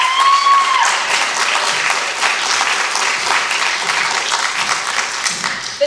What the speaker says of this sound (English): Y'all give it up again for Mila.